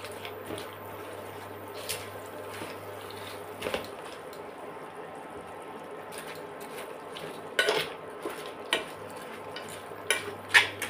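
Darsaan, a Chinese fried noodle dessert, tossed with sauce in a pan, giving soft scraping and stirring with occasional light clinks of a utensil against metal over a low background hum, close and fairly quiet.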